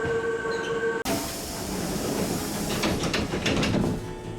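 A Hankyu Imazu Line one-man train rolls along elevated track toward Imazu, a steady broadband rumble of wheels and car noise with rising rattles and squeals near the end, recorded from inside the train.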